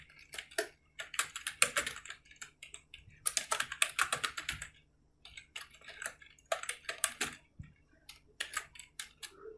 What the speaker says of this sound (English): Here I will type my content security policy.